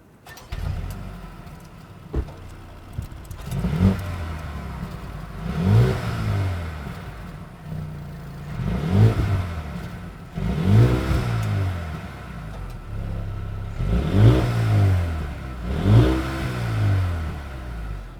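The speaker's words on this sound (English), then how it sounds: "we also have a dual rounded exhaust. So let me just let you hear it." Mercedes-AMG A35 4Matic with dual round exhausts revved while parked, giving about six repeated rising blips that swell and fall back, held in check by the rev limiter, close and moderately loud with no talking.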